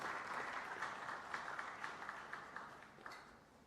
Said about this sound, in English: I request all of you to welcome Dr. S. Kiran Kumar with applause.